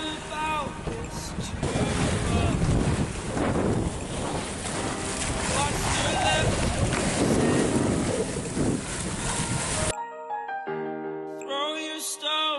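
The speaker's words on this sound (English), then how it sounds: "there's a good breeze" Wind roars and buffets the microphone aboard a sailboat in fog off the Portuguese coast in the Atlantic, with the rush of water against the hull underneath, loud and steady before cutting abruptly to quiet.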